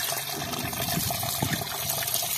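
Water gushing from the outlet of a 12V DC solar-powered water pump, a continuous, close splashing flow with a steady trickling texture and no speech over it.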